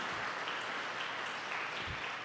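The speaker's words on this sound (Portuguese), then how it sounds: "Aplauda o Rei soberano, nosso Deus, que é digno." A church congregation claps together in worship, a steady, dense applause from many people that continues evenly throughout, with no speech over it.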